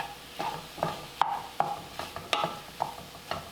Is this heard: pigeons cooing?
no